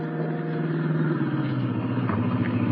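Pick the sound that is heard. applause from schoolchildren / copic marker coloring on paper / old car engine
old car engine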